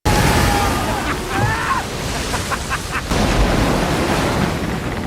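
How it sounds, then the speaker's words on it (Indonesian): A stormy sea with tall waves crashes against a boat in a film scene, a continuous roaring wash of surf and wind with a heavy impact partway through and faint voices calling. "Di tengah lautan badai yang dingin dan gelombang ombak yang tinggi, perahu mereka terhantam ombak dan bebatuan besar."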